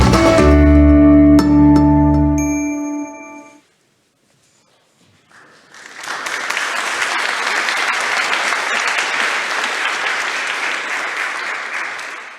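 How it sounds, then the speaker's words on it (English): Audience at a startup demo day breaks into sustained applause, a dense, steady wash of many hands clapping that swells in after a brief pause following a musical sting and carries on loudly. "There will be a lot of clapping today"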